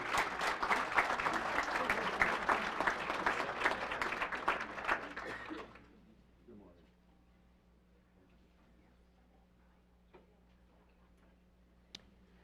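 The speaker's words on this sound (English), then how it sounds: "Let's give them a round of applause." Audience applause at a Washburn Tech letter of intent signing day ceremony for computer repair and networking students, a dense burst of clapping filling the room for about six seconds before cutting off into near silence with a few faint clicks.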